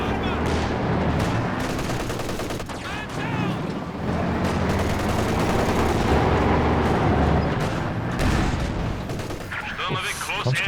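An artillery piece fires in Company of Heroes 2 with a heavy boom amid dense rattling gunfire and explosions, the battle running loudly throughout beneath a commentator's voice.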